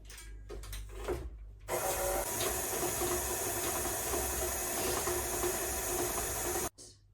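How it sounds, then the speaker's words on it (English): Cookie dough with butter, sugar, cinnamon and oats whirs in an electric mixer, starting with short bursts and then running steadily for about five seconds before it abruptly stops, close and alone. "let's mix everything together"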